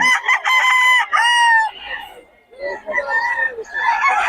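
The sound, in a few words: young gamecock roosters (stags) crowing at Bocaue market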